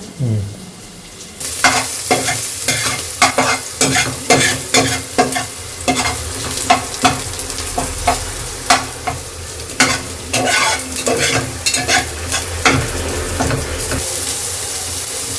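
Onion and coriander leaves fry in oil for goat leg paya soup, with a loud, close sizzle and a busy, irregular series of sharp spatula scrapes and clanks against the pan, continuing steadily without any voices.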